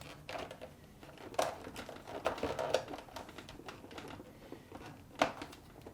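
Tape peeled back inside the ice box of a Whirlpool refrigerator: faint, close crinkling and rustling with a few sharper crackles, in short bursts and no talking.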